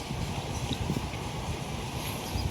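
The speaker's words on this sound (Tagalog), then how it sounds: "Ang lakas ang hangin." Gusty wind buffets the microphone in low, uneven rumbles, blowing strongly and continuously throughout without any speech.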